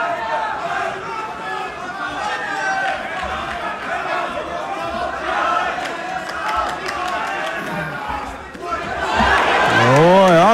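Crowd noise from the audience at an MMA fight in Düsseldorf, a steady roar of chatter and cheering beneath a commentator speaking throughout, swelling louder near the end.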